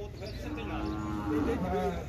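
Cattle at a livestock fair in Manari, Pernambuco, give a couple of drawn-out moos close by, amid crowd murmur and someone speaking.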